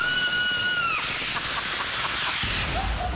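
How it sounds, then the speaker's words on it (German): A loud, high, sustained scream sweeps across the first second and then trails into hissy noise, ending with a short rising cry near the end. "Das war ein lauter Schrei."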